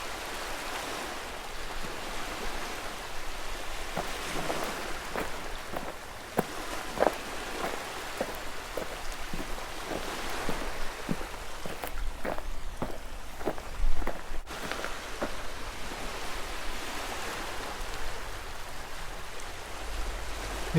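A sea parting into walls of water on either side, heard as a steady, broad rushing wash with scattered splashy droplet-like hits throughout, moderately loud and unbroken, with no voices.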